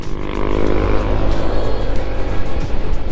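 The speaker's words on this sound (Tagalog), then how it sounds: "So may sasakyan, ha." A car passes on a winding mountain road between Pangasinan and Nueva Vizcaya, heard from inside a moving vehicle as a loud, close engine and road rumble lasting the whole moment.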